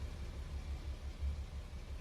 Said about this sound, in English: Oh, I can hear an engine over.